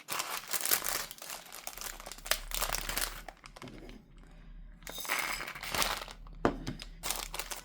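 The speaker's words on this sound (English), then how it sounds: "this one isn't in a resealable bag, but I do want to open it" Plastic packaging of a craft haul being opened and handled, a bag of bright resin flatback embellishments: close, loud crinkling and rustling bursts with sharp crackles, starting and stopping in irregular bunches across the whole stretch, no talk.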